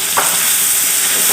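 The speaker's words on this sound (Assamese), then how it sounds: "এইখিনি ভালকৈ ভাজিব লাগিব যাতে সৰিয়হৰ কেঁচা ভাৱটো নাথাকে।" Mustard seed chutney with turmeric and sugar frying in a pan, a loud close continuous hiss and sizzle with one brief stir near the start.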